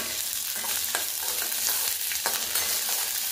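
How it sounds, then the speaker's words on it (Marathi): Garlic and curry leaves sauté in a pan for a green chilli chutney, with a constant close sizzle and several scraping stirs and clinks from a spatula. No one speaks. "तरी इथं मी कढीपत्ता ऍड केलाय। या पद्धतीने व्यवस्थित परतून घ्यायचं 1-2 मिनिटांसाठी।"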